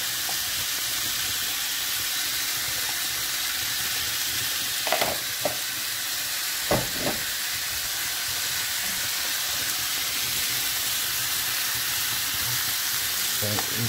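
Pieces of meat frying in a pan for a Polynesian dish, a steady close sizzle and hiss running throughout, with a few brief clatters and stirring bumps partway through.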